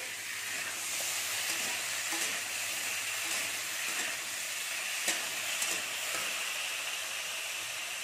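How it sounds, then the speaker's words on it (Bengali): Continuous sizzling hiss of drumsticks, brinjal and pointed gourd frying in hot oil, with occasional soft crackles and stirring scrapes, close and steady. "একসঙ্গে ভালো করে ভেজে নিচ্ছি।"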